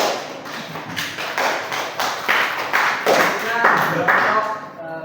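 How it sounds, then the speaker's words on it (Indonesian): Classroom clapping for a student group, a close, loud burst of many hands in quick uneven rhythm with some talk mixed in, tapering off at the end. "Tepuk tangan untuk kelompok Mahmud."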